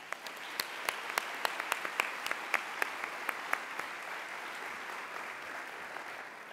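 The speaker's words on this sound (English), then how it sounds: "Please join me in a round of applause." Scattered clapping from a conference audience at a nurses' summit, with distinct individual claps standing out early over a steady wash of applause that gradually thins.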